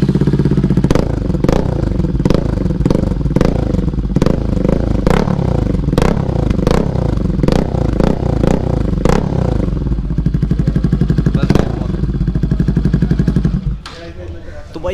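A Bajaj Pulsar RS200 motorcycle fitted with an SC Project aftermarket exhaust revs loudly and close in repeated sharp throttle blips over a steady idle, ending with a sudden drop to a quieter idle.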